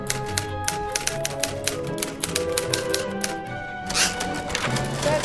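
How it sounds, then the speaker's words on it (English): Rapid typewriter keystrokes clatter in a steady, dense run, each key strike sharp and close, with a brief louder flurry near the end. "That's not a piano, it's a typewriter."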